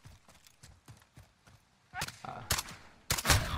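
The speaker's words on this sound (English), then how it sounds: "I'm using a pistol for this shit." Pistol fire in Modern Warfare, a run of faint rhythmic footstep-like taps followed by three loud sharp gunshots close together near the end.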